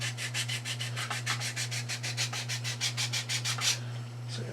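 Sandpaper wrapped on a Jenga block rubs back and forth over filler on a wooden piece in quick, regular strokes, around eighteen close scratchy passes over a steady low hum.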